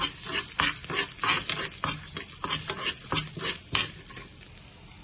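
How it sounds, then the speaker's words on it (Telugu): Mustard seeds, curry leaves, dried red chili and asafoetida spluttering and sizzling in hot oil for a radish chutney tempering, with steady crackling broken by repeated stirring scrapes, close and moderately loud. "ఆయిల్ కాగింది, ఆవాలు వేసినాను, కరివేపాకు, ఎండుమిరపకాయ, కొంచెం ఇంగు వేసుకుందాము."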